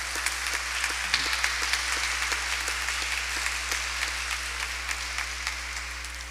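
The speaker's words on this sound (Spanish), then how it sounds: "Vamos a darle un aplauso." Steady applause from a congregation at a Sunday Mass, with many hands clapping continuously at a moderate distance and a low constant hum underneath.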